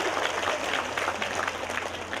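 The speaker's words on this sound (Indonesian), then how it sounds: "Ayo boleh berikan tepuk tangan dulu." Applause from an audience at a large Islamic religious gathering in Taiwan, a steady wash of many hands clapping, moderately loud and continuous with no voices over it.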